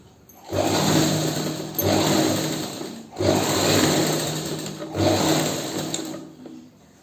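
Close, loud sewing machine stitching a seam in four steady bursts of rapid motor whirr and needle clatter, each lasting about a second or more, separated by brief pauses, with no talking.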